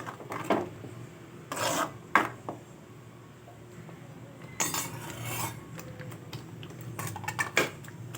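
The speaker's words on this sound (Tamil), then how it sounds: "இந்த மாதிரி நல்லா கிளறி கொடுத்துக்கோங்க." A spoon stirs mushroom curry in a cooking pan, making intermittent scraping and clinking bursts against the metal at close range, with quiet pauses between strokes.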